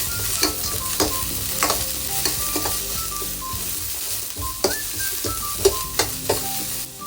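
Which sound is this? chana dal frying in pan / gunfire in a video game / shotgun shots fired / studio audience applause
chana dal frying in pan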